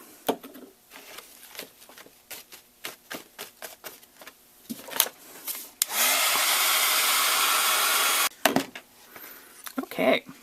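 A steady hiss of mist sprayed onto a Stampin' Up paper craft project lasts about two seconds, with handling taps and paper rustles before and after.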